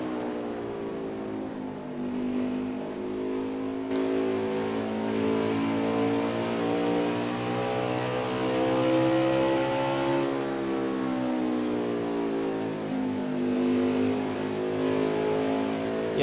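Race car engine at Iowa holding a steady drone through a corner, pitch dipping and then climbing as the driver eases back onto the throttle late, continuous and fairly near with no talk over it.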